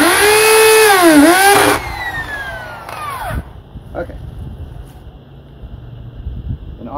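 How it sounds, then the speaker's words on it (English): A power drill bores a hole into masonry in a workshop while mounting a hose hanger. The motor whines loudly with pitch rising and dipping for a couple of seconds, then stops. A shorter burst follows, then quiet shop noise. "So now I have to drill the second part"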